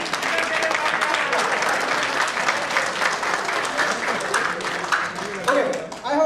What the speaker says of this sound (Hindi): कभी भी अच्छी बात सुनो तो तालियां जरूर बजाना